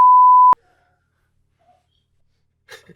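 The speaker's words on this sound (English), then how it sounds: "it looks like the episode will have a lot of beep beep beep" A steady half-second censor bleep tone over a podcast cuts off sharply, followed by near silence and a faint breathy sound at the end.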